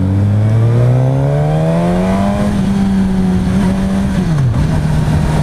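A 2016 Suzuki GSX-S1000 motorcycle accelerates hard, its engine note climbing steadily through the revs, briefly dipping at a gear change, then droning on loud and close under rushing wind.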